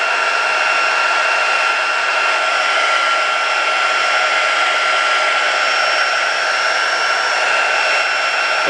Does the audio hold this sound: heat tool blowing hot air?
yes